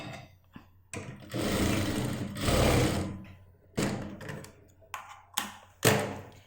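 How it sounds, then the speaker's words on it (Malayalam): A sewing machine stitching two churidar fabric pieces together runs in several short, close bursts of varying length, separated by brief pauses and light clicks, with no talking. "ഈ രണ്ടും കൂടി ഇതുപോലെ ഒരുമിച്ച് വെച്ചിട്ട് താഴത്തേക്ക് സ്റ്റിച്ച് ചെയ്യാം."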